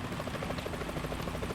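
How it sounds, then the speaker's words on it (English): A helicopter flies in the video game Metal Gear Solid 2, its steady rotor chop thudding in a continuous fast rhythm, moderately loud with no talk over it. "Is that a chopper I just heard?"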